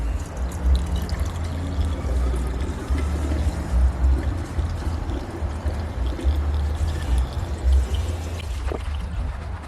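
Odorless mineral spirits poured into a fuel injector cleaner tank in a garage, a steady trickling, gurgling liquid stream with small splashes throughout, fairly close and unbroken by talk.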